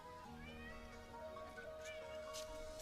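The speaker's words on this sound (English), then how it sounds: "the neighbor's cat is here" A cat keeps meowing in a string of high, drawn-out cries that rise and fall indoors, fairly close but soft, with no talking over it.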